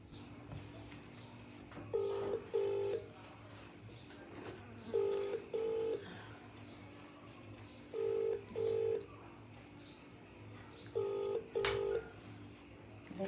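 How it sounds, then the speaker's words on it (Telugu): Touch-tone keypad beeps as a phone call is dialed from a mobile phone to a husband: four separated pairs of short tones over a low steady hum, with no talking. "ఇప్పుడైతే నేను మా హస్బెండ్కి కాల్ చేసి చెప్తాం"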